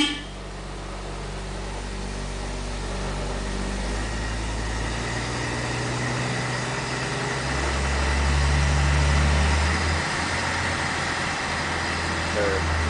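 A 1947 International Harvester KB-1 panel truck engine running after a cold start, a steady low idle that rises into a heavier, louder drone partway through before easing back, heard alone with no talking.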